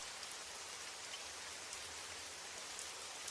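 Steady rain falls in an even, soft hiss, continuous and fairly faint, with no voices or other sounds.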